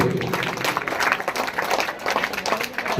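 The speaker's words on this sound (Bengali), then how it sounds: "একটু করতালি দিয়ে সবাই" An audience applauds at a school welcome ceremony honouring guests, with a lively, sustained patter of many hands clapping that swells and dips slightly across the whole stretch.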